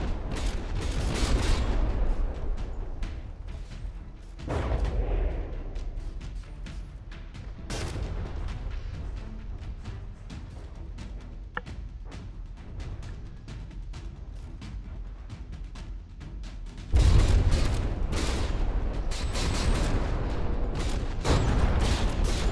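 Naval gunfire in the From the Depths combat game: repeated booming cannon shots and impacts between warships, loud and dense throughout with mechanical clatter, with heavier bursts of fire near the start and again toward the end.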